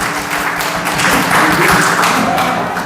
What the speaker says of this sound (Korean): 다시 한번 하나님께 영광의 박수 올리겠습니다.